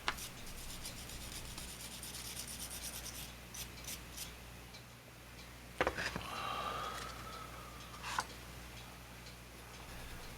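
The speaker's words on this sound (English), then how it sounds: "after a bunch of sanding, really aggressive sanding I might add" Aggressive hand sanding on a die-cast Hot Wheels Redline Ford Coupe, a steady close rasping rub through most of the stretch with a few sharper scrapes and ticks, no talking.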